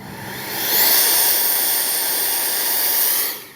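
Electric ducted-fan motor of an FMS 80mm F-86 RC jet running in thrust reverse, a loud, steady, rushing whine that swells early, holds, then cuts off near the end.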